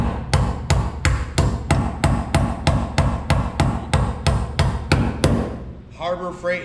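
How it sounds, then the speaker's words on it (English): A hammer strikes a steel punch in a fast, steady series of about twenty sharp, ringing blows, close by, ending with a brief rattle. "Harbor Freight hammer, snap on punch."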